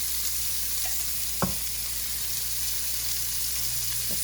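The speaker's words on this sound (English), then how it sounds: "you want to cook it on each side for about 2 to 3 minutes to sear them up" Shrimp searing in a hot pan for Cajun shrimp fettuccine, a steady bright sizzle throughout with a single soft knock partway through, close and fairly loud, no talking over it.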